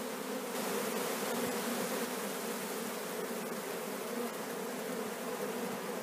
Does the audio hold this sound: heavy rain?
no